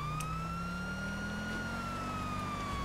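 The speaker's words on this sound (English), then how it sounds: "You got that stealth siren going too." A police siren wails in a video game with a steady, slowly rising tone carrying bright harmonics, continuous and moderately loud over a low rumble, with no talking.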